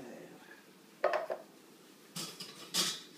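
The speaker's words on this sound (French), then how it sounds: "pour mélanger le tout, je vais utiliser une cuillère" A spoon stirs a cherry mixture into chocolate cake batter in a bowl, giving a few short clinks and scrapes against the dish, two quick bursts then a brief pause and a couple more close, fairly quiet.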